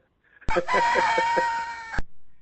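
A man imitates a rooster's crow with his voice: one loud, drawn-out call of about a second and a half, rising sharply and then cutting off.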